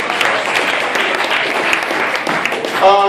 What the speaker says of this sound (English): round of applause for the Ivywild School for letting us do this event